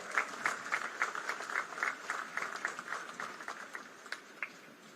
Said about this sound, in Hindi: देवी और सरजो जोरदार तालियों से अभिनंदन करें।